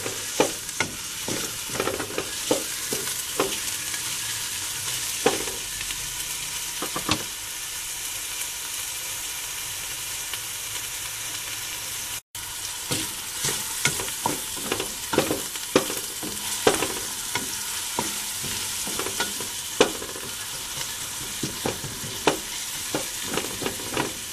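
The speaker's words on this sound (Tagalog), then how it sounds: "Lulutuin lang natin yung ating sibuyas" Chopped onions sauté in a pan for pinakbet, a steady soft sizzle of frying broken by repeated scraping stirs of a spatula, close up and without talk.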